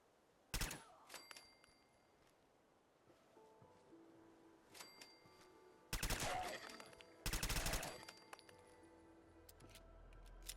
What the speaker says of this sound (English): when you change it to full auto, it becomes a little bit overpowered because it actually keeps most of its damage